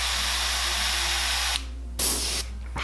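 Airbrush spraying yellow paint onto a handmade smallmouth bass lure, a close, steady hiss that cuts off in short pauses between bursts.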